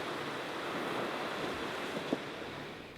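Steady ocean surf at a state beach forms a broad, continuous wash of noise with some wind buffeting, heard from nearby with no voices.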